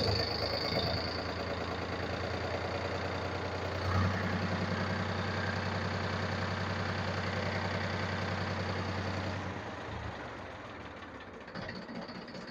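A Powertrac tractor engine runs steadily with its revs raised during a hydraulic pump and pipe repair, a loud continuous close diesel drone that holds for about nine seconds before easing back toward idle.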